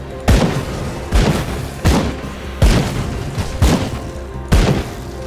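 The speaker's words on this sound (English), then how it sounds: "One of my shots is exploding outwards at the moment" Exploding shots in the Grim Dawn video game, six heavy booming blasts landing at roughly even intervals, each a sharp thud with a rumbling tail, loud and close.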